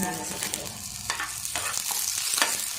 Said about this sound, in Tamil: லைட்டாக வதக்கி விட்டுக்கோங்க